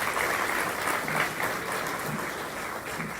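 An audience claps steadily at a Hall of Fame induction ceremony for the founding president, a broad, even wash of applause that fades slightly toward the end.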